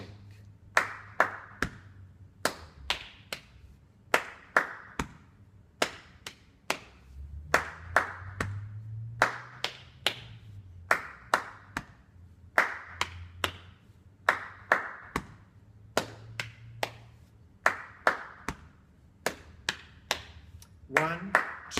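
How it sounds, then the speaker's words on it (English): A body percussion routine repeats a pattern of hand claps, chest slaps and leg slaps in steady cycles, crisp separate hits with a low hum beneath, and a voice occasionally calling along. "Clap, clap, chest, clap, leg, leg."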